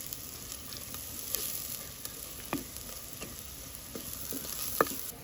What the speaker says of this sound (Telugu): ఇవన్నీ కూడా దోరగా వేపుకోవాలి అబ్బాయి